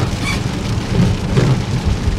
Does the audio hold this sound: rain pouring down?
yes